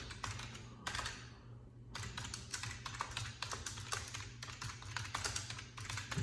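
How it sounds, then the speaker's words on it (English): Rapid typing on a computer keyboard: a dense, steady clatter of keystrokes with a short lull early on, close and fairly loud over a low background hum, with no talking. "Let me type this"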